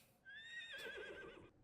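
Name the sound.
horse neighing in the video game Icarus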